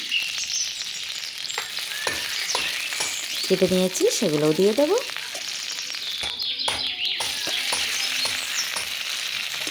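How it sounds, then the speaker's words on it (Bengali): Prawns and chopped onion frying in oil in a wok, a steady close sizzle with bursts of crackling and stirring throughout, while someone talks over it. "কড়াই বসিয়ে দিলাম দিয়ে দিলাম পরিমাণ মতো তেল দিয়ে দেবো পেঁয়াজ কুচি আর দিয়ে দেবো মাঝারি সাইজের সেই চিংড়িগুলো"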